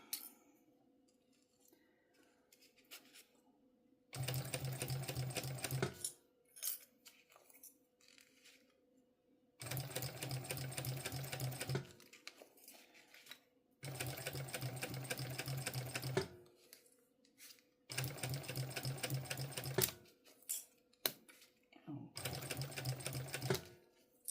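Short bursts of a domestic sewing machine back stitching a bum bag, about six runs of rapid whirring separated by quiet pauses with small clicks and handling noises.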